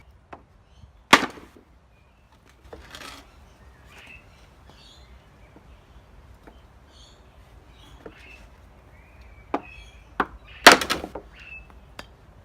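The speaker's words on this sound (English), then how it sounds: "not to hit it too much until I work my way along, and then I'll be able to separate the board off" Wooden pallet planks being knocked apart with a hammer, a few loud, sharp whacks spaced out across the stretch with a cluster near the end, between quieter outdoor background with faint bird chirps.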